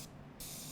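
Cooking spray hits a muffin tin in two short hissing bursts, close and fairly faint, over less than a second.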